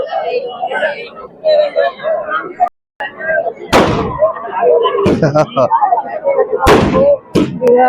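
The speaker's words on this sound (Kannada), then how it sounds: "ಅಲ್ಲೇ ಪಟಾಕಿ ಎಲ್ಲ ಹೊಡಿತಾ ಇದ್ರು" Firecrackers burst at a village fair in Mavinahalli, Karnataka, with several loud, sharp bangs spaced a second or so apart, heard among people talking nearby.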